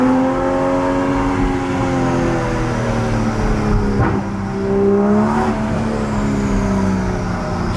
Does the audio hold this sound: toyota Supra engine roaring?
yes